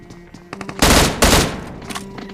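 Gunfire in the video game PUBG, a loud sustained burst of rapid automatic shots with a few scattered single shots before and after.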